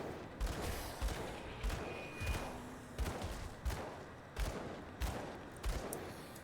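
Gunfire in the action RPG Grim Dawn, a steady run of evenly spaced, punchy shots, about eight in a row, over a busy combat background.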